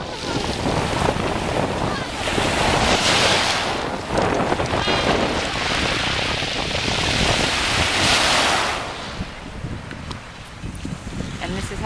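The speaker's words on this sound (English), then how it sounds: "In the morning, an empty beach just for the two of us." Surf rolls and washes steadily onto an empty beach in the morning at Etretat or Fecamp on the Normandy coast, loud and broadband, with heavy wind buffeting the microphone and easing toward the end.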